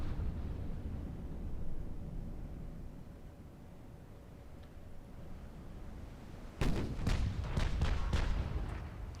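Naval gunfire in the warship game Ultimate Admiral: Dreadnoughts, with a low, steady rumble of distant fire, then a cluster of sharp, loud gun blasts near the end.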